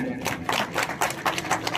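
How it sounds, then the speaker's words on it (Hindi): An audience clapping at a celebration for a newspaper reaching 100K Facebook followers, a brief patter of many hands with voices mixed in, moderately loud. "एक बार जोरदार तालियां"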